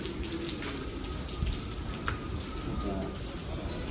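Steady rain falling as a continuous soft patter, with occasional louder drops standing out.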